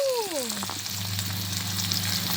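Shallots fry in hot oil for a homestyle village chicken curry, a steady close sizzle with a low hum underneath, opened by a brief gliding tone.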